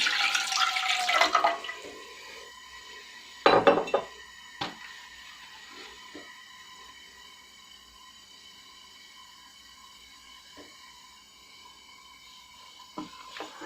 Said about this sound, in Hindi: तो पानी डाल दूंगी इसमें मैं।